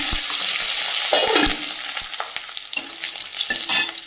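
Bay leaf, cardamom, cloves, whole garlic and dried red chilli dropped into hot oil in a kadai, giving a loud, close, steady sizzle with scraping stirs breaking through.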